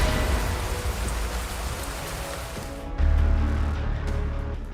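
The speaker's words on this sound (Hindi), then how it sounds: "बारिश थमने का इंतजार था।" Steady rain falls through dense Abujmarh forest, a broad, even hiss of drops on leaves and surfaces that swells louder partway through, with a deep low rumble underneath and no voices.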